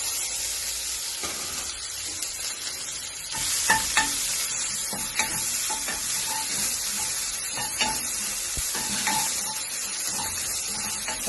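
Ginger and garlic fry in very hot oil for Afghani kheema, a bright steady sizzle with spoon stirring and occasional clinks against the pan, close and alone without talk.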